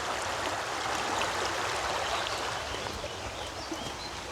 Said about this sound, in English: The sound of the water is so amazing.